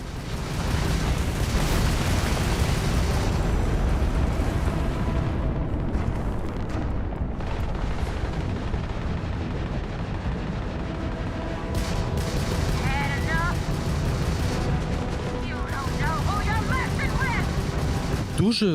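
Continuous heavy gunfire and booming explosions from the video game Starfield fill the whole stretch, dense and loud, with occasional higher whistling effects over the din.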